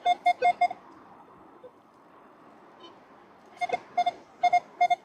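Metal detector beeping over a buried earring on a beach, short clustered electronic tones in bursts of four, then quieter ground hiss, then another rapid series of beeps.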